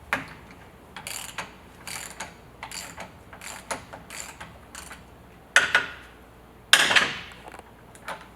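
A socket ratchet works on the slip clutch cover of a Pentruder high frequency wall saw, giving a steady series of close, dry clicking strokes with a few louder clacks near the end.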